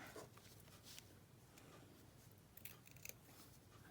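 Scissors snipping to trim the edge of a handmade craft topper for a Santa's reindeer food bag, a few faint close crisp cuts with quiet rustling in an otherwise hushed room.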